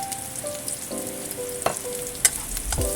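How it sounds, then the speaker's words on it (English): Green onions and green peppers stir fry in oil in a hot wok, giving a steady close sizzle with occasional scraping and clinking from the utensil and no talk. "Do a stir fry. Stir fry a little bit."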